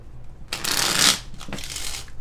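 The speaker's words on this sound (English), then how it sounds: "I shuffle these clarifiers real quick" Tarot cards are shuffled by hand in two quick riffling bursts, crisp papery flutters close to the microphone with a short pause between them.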